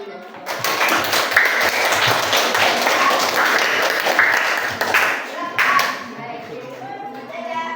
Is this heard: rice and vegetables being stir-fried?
no